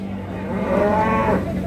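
A pregnant Pegon cow at Babat cattle market in Lamongan gives a single drawn-out moo, loud and close over a steady background hum.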